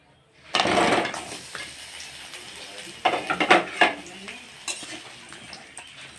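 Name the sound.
frying pointed gourd (potol) in hot oil in a kadai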